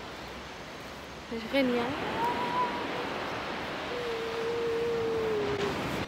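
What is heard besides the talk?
sea waves on a beach in Cádiz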